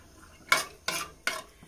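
A pressure cooker lid set in place and locked shut for cooking prawns, three short clanking metal knocks spaced under a second apart, close and fairly loud with no talk.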